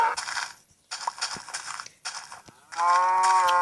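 Cows mooing in Minecraft Pocket Edition: a few short, blocky game moos and grunts, ending in a longer, louder tonal moo, all close and clear with no talk.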